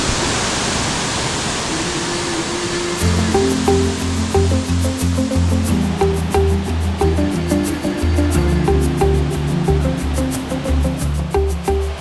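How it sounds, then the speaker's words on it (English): Waterfalls at Plitvice Lakes in Croatia roar in a steady, broad rush, heard alone at first and then under tuneful background music for most of the stretch. "the waterfalls is so beautiful"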